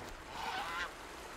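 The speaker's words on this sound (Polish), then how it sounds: "Gęś, która odleciała." Goose in the video game Horizon Zero Dawn, a single nasal honk rising and falling, fairly close against quiet game ambience.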